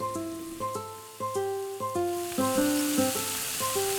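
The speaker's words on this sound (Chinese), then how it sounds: "再下沙姜煸炒出香味" Sand ginger stir-fried in hot oil in a wok, after dried shrimp were fried in the same oil, gives a steady sizzle under prominent background music with clear melodic notes.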